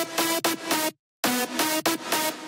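FL Studio drum and bass drop with rendered synth leads and extra transient elements, loud rhythmic chopped lead stabs that drop to a short silence near the middle, then return for several more hits, no talking.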